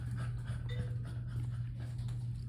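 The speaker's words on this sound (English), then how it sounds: "The dog that I have with me right now." A dog panting steadily with soft breathy rhythm and faint whimpers, close by over a low constant hum.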